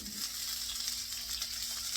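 Cabbage frying in olive oil in a pan, a steady close sizzle with fine crackling that holds unbroken throughout, with no voices.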